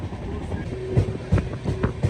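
A passenger train rolls through hilly country in Bihar on a night journey, its wheels beating out a rhythmic clickety-clack over a low rumble, with a steady tonal hum running underneath.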